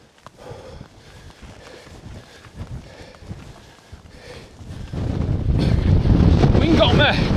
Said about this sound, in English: Oh, that wind. Definitely wind.